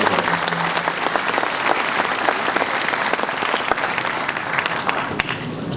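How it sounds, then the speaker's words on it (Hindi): An audience gives loud, sustained applause to welcome a guest at a live event at Shahid Smarak Bhavan: a dense, even roar of many hands clapping for several seconds in a large hall. "एक बार जोरदार तालियों के साथ आप उनका स्वागत करें।"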